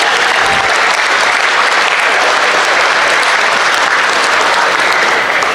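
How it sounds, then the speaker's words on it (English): An audience at a sheep show gives the exhibitors a loud, dense round of applause, a continuous roar of many clapping hands that stays steady and close throughout. "let's give them a big round of applause"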